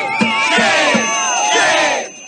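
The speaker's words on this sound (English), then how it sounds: "crowds gathered to protest outside an immigration court, holding signs and confronting officers at the scene" Protest crowd massed outside an immigration court, many voices shouting and yelling together in loud, overlapping bursts that rise and fall, sustained throughout before briefly easing at the end.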